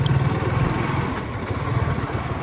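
A motorbike rides along a road near Kuakata in Barisal, its small engine giving a steady, close buzzing drone with slight throttle wavering throughout.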